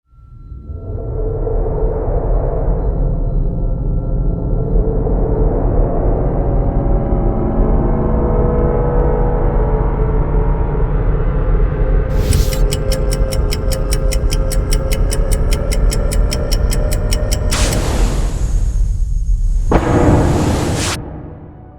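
A synthesized time-machine start-up effect rises in pitch and intensity, then breaks into rapid ticking pulses and a bright, shimmering burst before it cuts off; the loud effect plays alone for over twenty seconds.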